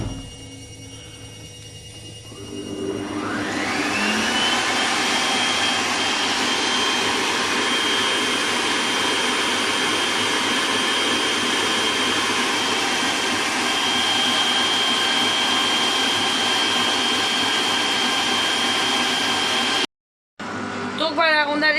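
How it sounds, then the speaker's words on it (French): Electric mixer beating whipped cream with sugar for a chocolate Easter cake, a steady loud whirring drone that starts after a couple of seconds, runs continuously, then cuts off abruptly near the end. "on a laissé battre les ingrédients ensemble jusqu'à obtention que ça épaississe"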